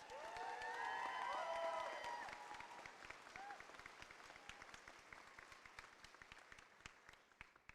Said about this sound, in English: I think we need to give him a big round of applause for everything he brings to this campus.